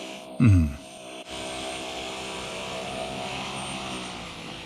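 Model V-22 Osprey tiltrotor aircraft in flight, its rotors and motors droning steadily with a sustained hum, preceded by a brief loud burst of noise near the start, moderately close and with no speech.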